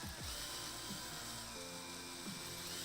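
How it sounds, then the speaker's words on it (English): Power drill boring into a part for a Halloween costume build, a steady whirring drone at close range with a few brief pitch dips as the bit bites, no talking. "just why even stop drilling?"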